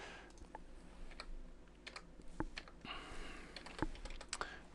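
Typing on a computer keyboard while a password is entered, a quiet run of irregular key clicks and taps close by for several seconds with no voices.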